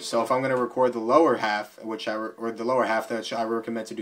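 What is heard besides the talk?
No distinct noise like a dog, phone or traffic.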